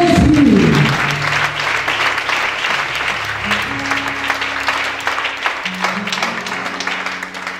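Sustained applause with clapping and some cheering fills a church worship service, loud and dense at first, then settling into a steady ovation.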